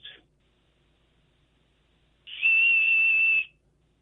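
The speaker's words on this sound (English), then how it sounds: "give us a little Wiener whistle sample there" An original Wiener whistle gives one steady, shrill blast of about a second, clear and close, with a brief chirp just before it and near silence around both.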